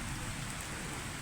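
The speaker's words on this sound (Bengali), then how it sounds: "এই 2026 সেশনের প্রথম বৃষ্টি খুব সুন্দর বৃষ্টি পড়তেছে।" Steady rain falls during a thunderstorm, a dense, even hiss of drops on surfaces that holds constant and fairly soft for the brief moment, with no voices.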